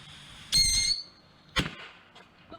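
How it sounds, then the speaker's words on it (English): Fireworks launch in a post-apocalyptic survival game: two sharp whooshing, whistling bursts about a second apart, the first louder and longer, followed by a faint pop near the end. "Everything can launch fireworks."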